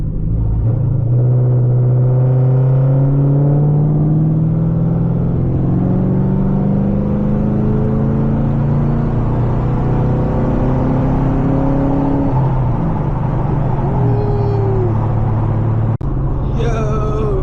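A straight-piped Camaro 2SS with long-tube headers accelerates on a highway, its loud, steady exhaust drone rising in pitch across a long pull, heard from inside the car.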